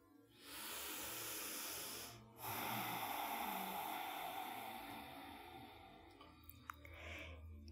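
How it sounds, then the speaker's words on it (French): Yoga breathing through a contracted throat makes a long rushing hiss like ocean waves: one drawn-out breath, a brief pause, then a second longer breath that slowly fades, close and soft with no talk. "dès qu'on contracte les gorges, on commence à produire les sons des vagues de l'océan avec notre respiration"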